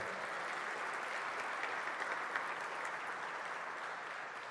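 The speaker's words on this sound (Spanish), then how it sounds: "un fuerte aplauso también para Gael" Sustained applause from an audience at a union leaders' event welcoming deputy Gael Yeomans, even and fairly distant clapping that holds steady, then eases slightly at the end.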